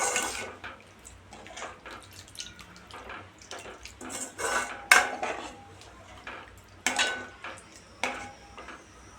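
A spoon scrapes and clatters around a pan of dried fish masala in irregular strokes, with wet, splashy stirring and occasional sharp metal knocks.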